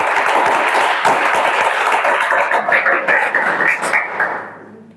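A classroom of police recruitment students claps together in a dense, loud burst of many hands close by, holding steady for several seconds before fading out near the end.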